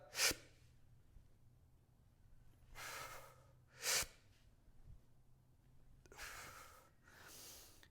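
Sharp inhalations and exhalations from someone bracing for a dumbbell deadlift: a quick gasp, two longer breaths, another quick intake, then two more breaths, close and quiet with no talking.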